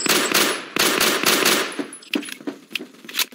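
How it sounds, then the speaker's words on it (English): Rapid bursts of 9mm machine pistol fire in the Phantom Forces shooter game, loud and close, arriving in several quick broken strings with short gaps between them. "Oh, this is one of those machine pistols."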